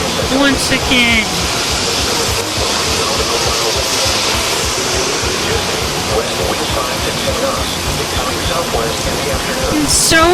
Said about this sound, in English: The rain is back once again.